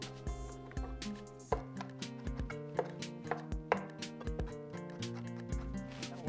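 Fresh garden parsley being chopped with a knife on a board, a run of irregular crisp chops, some closely spaced, heard over steady background music with no talking.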